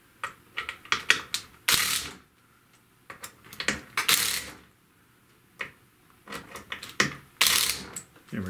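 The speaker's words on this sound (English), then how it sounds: "I'm going to increase the torque on my driver to 11, and I'm going to give these screws a final torquing." A power driver set to torque 11 tightens the screws on a Kirby Sentria vacuum during an impeller replacement. Short clicking, ratcheting bursts come in several groups with quiet gaps between them, close and fairly loud.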